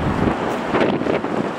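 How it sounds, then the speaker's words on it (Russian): Strong wind gusting in snowy Kyiv at the start of snowfall, roaring steadily against the microphone as a broad, close rush with swelling gusts throughout. "Сейчас у нас в Киеве начинается снег и начался довольно-таки сильный ветер."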